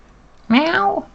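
A single close meow, short and rising then falling, from a pet cat in a quiet room.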